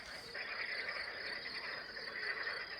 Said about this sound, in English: And with this view and the sound of the frogs.